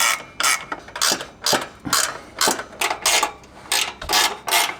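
Ratchet working titanium exhaust bolts snug on a Subaru WRX, a close, loud run of rapid clicking bursts repeating in a steady back-and-forth rhythm.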